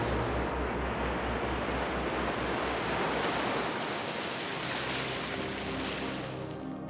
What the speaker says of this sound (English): the wave rolls in and then rolls back and you hear the tumbling of the rock